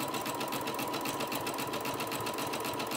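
A sewing machine runs steadily, stitching a zigzag around the edge of a fabric hot pad, a continuous close, even mechanical whir with rapid needle pulses and no pauses.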